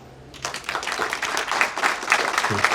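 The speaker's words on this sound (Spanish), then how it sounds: "creo que merece también un fuerte aplauso" Audience applause at a book presentation at a book fair, starting after a quiet moment and swelling into steady, fairly close clapping that carries on to the end.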